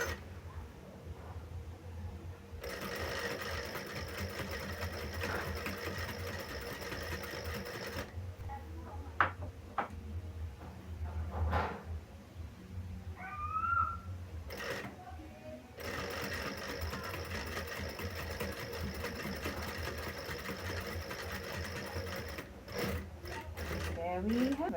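A sewing machine stitches a fabric sling bag, including back stitching, running in long rapid stretches broken by short pauses and clicks, close and steady at a moderate level.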